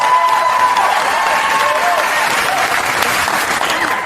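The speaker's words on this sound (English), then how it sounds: "let's applaud even though we don't know what she's about to say" Loud, dense applause from a stand-up comedy audience fills the whole stretch, steady and continuous with crowd noise underneath.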